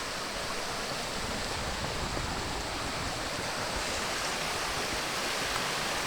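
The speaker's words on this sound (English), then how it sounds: "Nice little small cascade." Big Wilson Creek pours over a small cascade in the Grayson Highlands, a dense, steady rushing of water that stays loud and unbroken throughout, with no voices.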